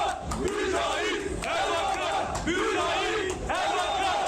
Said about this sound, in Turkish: salon girişinde de tezahüratlarla karşılandı